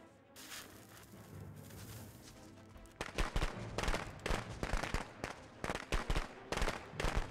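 Rapid bursts of fireworks crackle and pop in the video game Friday the 13th The Game, a steady hiss giving way to dense, loud, irregular explosive cracks close by.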